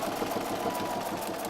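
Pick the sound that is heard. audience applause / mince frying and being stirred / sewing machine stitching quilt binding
sewing machine stitching quilt binding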